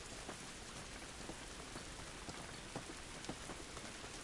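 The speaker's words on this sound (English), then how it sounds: "This rain ain't gonna do us any good." Steady rain pouring down in The Last of Us remake video game, a dense, even hiss of drops with scattered sharper patters striking surfaces, constant and fairly quiet with no talking.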